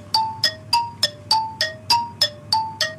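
A bright two-tone bell chime rings out ten times in a quick, steady rhythm, each ding clear and ringing briefly before the next.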